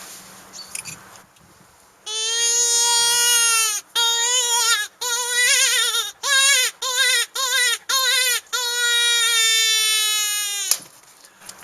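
A shrill, wailing dying-hare distress cry blown on a Faulhaber predator call, sustained bursts broken into several short choppy squeals, loud and close, sounding like a rabbit screaming.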